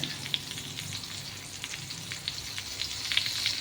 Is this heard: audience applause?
no